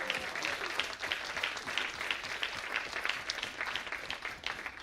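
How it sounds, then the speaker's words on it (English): Audience applause at a Phenomenal Women awards conference honouring young women agriculture trainees from an academy club, a dense, even patter of many hands clapping, fairly distant and sustained without pause. "Give them a round of applause, our next generations of phenomenal women."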